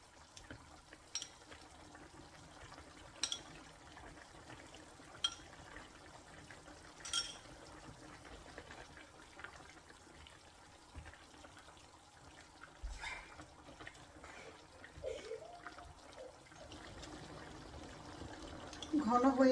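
Cornflour slurry trickles little by little into a cooking Chinese-style sauce in a home kitchen, a faint, soft pouring and liquid sound under a steady low background, growing slightly louder near the end.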